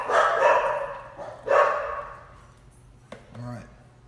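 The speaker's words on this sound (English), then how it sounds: "Oh, the dogs." Household dogs bark near a kitchen with a blender, giving two loud, sharp barks followed by a short yip and a quieter whimper, with people talking around them.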